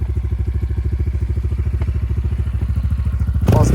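A KTX motorcycle engine idles close by in a steady, rapid thumping putter, with a clattering burst near the end as the revs pick up.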